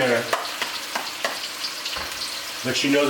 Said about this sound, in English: A nice sizzle, yeah?